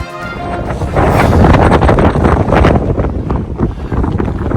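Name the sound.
strong wind blowing on a hiking trail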